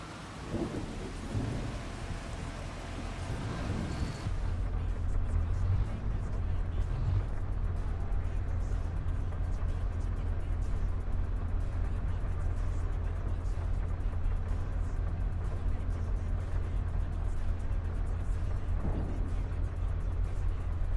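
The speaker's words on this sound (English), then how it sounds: "I can hear the tractor and the rain." A steady low video game tractor engine drone runs throughout with a constant wash of rain, a heavier rumble at the start, no speech.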